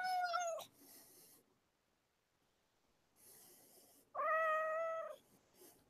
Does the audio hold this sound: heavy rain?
no